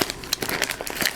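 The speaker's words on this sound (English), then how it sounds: "I try to keep everything in plastic bags to protect them." Plastic bags crinkling while a fire kit is handled, a close, busy run of crisp rustles and crackles with no talk.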